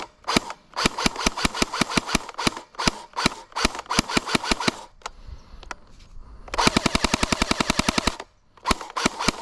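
An airsoft gun fires close by, first in quick runs of single semi-automatic shots, then in a dense full-auto burst, followed by a few more single snaps.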